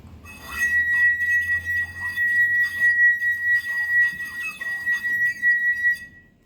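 Sustained clear ringing tone from a drinking glass a quarter filled with water, resonating steadily for several seconds with faint clinks and background murmur, fading out at the end.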